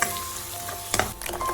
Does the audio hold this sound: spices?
yes